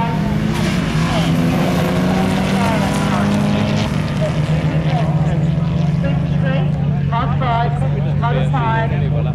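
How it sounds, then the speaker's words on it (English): A Chevy Camaro and a Mitsubishi Lancer Evo 6 drag race, their engines roaring loudly and steadily with rising and shifting pitch under continuous commentator talk. "Tony and Riddell lining up the Chevy Camaro against Scott Price in his Mitzi Lancer Evo 6."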